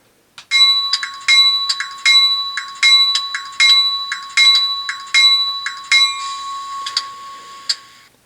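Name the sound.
model locomotive bell sound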